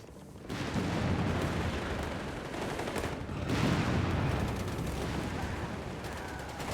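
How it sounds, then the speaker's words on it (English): Johnson light machine guns fire in the Company of Heroes 3 battle, with sustained rattling bursts and a dense crackle of battlefield gunfire that persists at moderate loudness with a brief lull partway through. "Johnson light machine guns, of course, ready to rip through the Germans"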